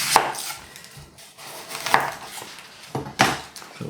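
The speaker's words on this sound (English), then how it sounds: "So peel and chop it." A knife chops an onion on a board, with three sharp, distinct knocks spaced about a second apart, close and clear without talk.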